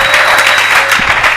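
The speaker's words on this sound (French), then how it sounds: "Applaudissez d'abord le Seigneur." Congregation applauding in a church, a steady dense wash of clapping hands filling the space, loud and continuous throughout with no voices over it.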